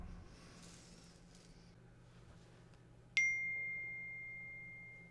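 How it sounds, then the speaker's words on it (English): A phone chimes once with a single clear notification ding for an incoming text message, which then rings out and fades slowly. Before it there is near silence with only faint background hum. "My phone will ding here in a minute."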